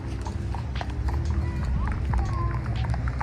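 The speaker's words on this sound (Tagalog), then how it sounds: "Ganda ng mga kabayo. Parang may mga parada ng kabayo rito eh." Horses parading through a street in Baguio, their hooves clip-clopping steadily at a brisk pace against a busy outdoor backdrop, with people talking throughout.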